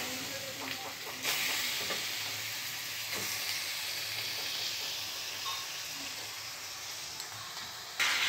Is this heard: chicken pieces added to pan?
yes